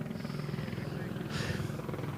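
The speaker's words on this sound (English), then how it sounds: "Above us, a helicopter continues to shine lights on where the main portion of the crowd is." A police helicopter hovers overhead during a downtown Phoenix curfew dispersal, its low rotor thrum steady and fairly distant beneath a person talking.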